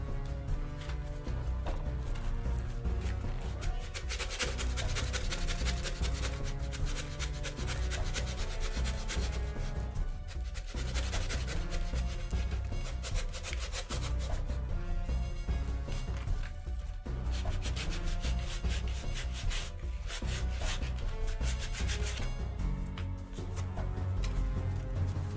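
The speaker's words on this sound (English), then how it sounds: "I'll use a tiny bit of sandpaper here just to see if I can smooth out the inside" Sandpaper rubs the inside of a handmade captain's hat in continuous scratchy strokes, close and fairly quiet, with brief pauses between passes.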